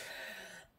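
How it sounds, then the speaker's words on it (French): A single short throat-clearing cough, close and fairly quiet, with no talking around it. "Pardon, je tousse encore un peu."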